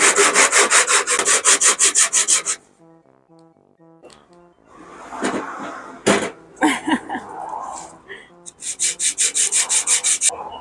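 Rapid rhythmic rasping of a file scraping the face of a cheap replacement brake rotor flat for a Suzuki Wagon R MH22S, loud bursts of strokes at the start and end with quieter scraping and handling noises between.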